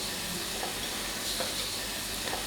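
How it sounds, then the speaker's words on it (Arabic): Marinated chicken shawarma strips fry in a pan, giving a steady, fairly soft sizzle and hiss that holds even throughout with a few faint stirring sounds, with no talk. "بعد ذلك أضع شرائح الدجاج في مقلاة لتطهى"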